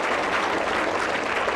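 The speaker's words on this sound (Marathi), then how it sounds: "जोरदार टाळ्या." Studio audience applause on a Marathi quiz show, a steady, dense wash of clapping that fills the whole short moment without a break.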